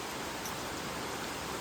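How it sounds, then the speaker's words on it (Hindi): Very heavy early-morning rain pours down in a constant, even broadband hiss, with no pauses or voices. "6 बजे या 5:30 बजे से बहुत तेज़ बारिश आ रही है"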